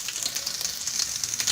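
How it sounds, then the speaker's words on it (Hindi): Garlic and ginger paste sizzles in hot oil in a pan, a steady close crackling hiss with no talking, for homemade pasta. "ऑयल जब गर्म हो जाए तो इसमें मैं डालने जा रही हूँ एक चम्मच भर के।"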